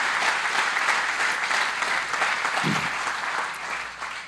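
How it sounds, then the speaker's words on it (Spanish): A Spanish-speaking church congregation claps in a continuous, full round of applause that stays steady throughout and eases slightly at the close. "Un aplauso al Señor"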